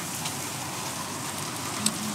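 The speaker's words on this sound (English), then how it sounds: "Unfortunately, it's raining pretty hard." Steady, dense hiss of heavy rain pouring down at a Russian railway station, even and continuous throughout, with one brief faint tick near the end.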